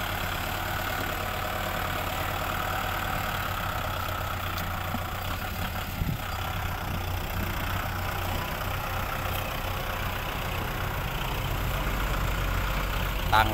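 A Kubota M6040SU farm tractor idles steadily on a sugarcane field, its engine a constant, even drone that holds without change for over a dozen seconds, with no voices over it.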